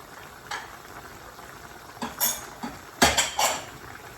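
Chicken and bamboo shoot curry simmers in a pot, a soft bubbling bed broken by several sharp metallic clanks of a utensil against the pot, spaced irregularly.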